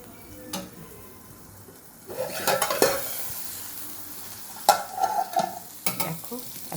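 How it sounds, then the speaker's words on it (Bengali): Pointed gourd (potol) fries in oil in a pan with a low steady sizzle, broken by several sharp clattering stirs of a spatula against the metal, close and without voices. "দেখো, এখনও ভাজা চলছে।"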